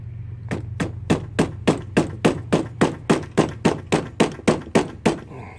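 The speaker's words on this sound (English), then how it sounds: "Took a mallet hammer because I didn't want to damage it." A mallet hammer taps on a motorcycle handlebar grip as it is worked off the bar, about fourteen close, even knocks in a steady rhythm over a low constant hum.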